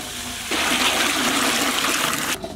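Water pours steadily into a bowl of basmati rice set to soak, a loud continuous gushing splash that starts abruptly and runs for about two seconds before cutting off.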